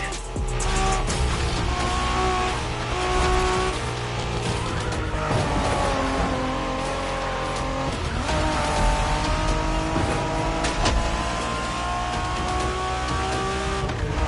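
Cars race through a Japanese street race in The Crew Motorfest, with engines roaring loudly and continuously. Revving swells and squealing tires cut through the constant drive, and nobody speaks over it.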